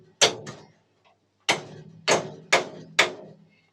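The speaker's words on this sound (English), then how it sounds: "Right, so I'm just going to give this a bit of a tap up." Sharp metallic hammer taps on a seized part of a mobility scooter, one double knock followed by four evenly spaced blows after a pause, close and distinct with no talk.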